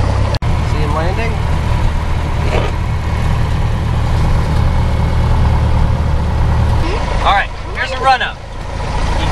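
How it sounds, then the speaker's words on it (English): A light aircraft engine running on the ground before takeoff makes a steady low droning hum that drops away near the end, with voices talking over it. "We can check and make sure the engine is running the right way."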